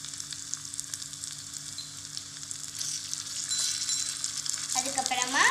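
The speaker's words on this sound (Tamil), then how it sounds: "இப்போ இதை நல்லா வதக்கி விட்டுக்கலாம்." Ginger garlic paste sautéing in a miniature biryani pot, a soft steady sizzle with light stirring scrapes that grows a little louder toward the end, with no talking.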